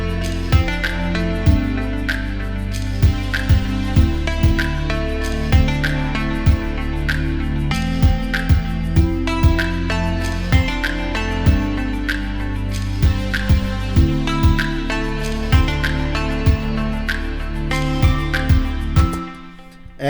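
An electronic dance track verse plays loud and full, with punchy kick and snare hits in a steady beat under layered synths and bass, cutting out abruptly just before the end.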